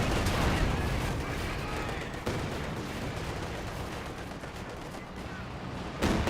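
Katyusha rocket barrage in Company of Heroes 2, a dense, sustained roar of launches and explosions filling the whole stretch, loud and continuous with a brief lull near the end.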